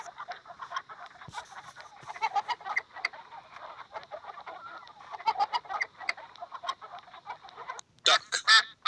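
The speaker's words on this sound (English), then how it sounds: "Chicken." A chicken clucks in quick, irregular bursts at close range, fairly faint at first, then louder squawks near the end, with no talk.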